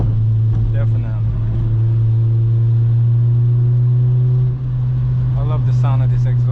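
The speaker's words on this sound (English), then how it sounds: "I love the sound of this exhaust." An 8th generation Honda Civic Si exhaust drones steadily from inside the car while driving in rain in New York, a loud, constant engine hum with the pitch shifting slightly as it downshifts, with people talking over it.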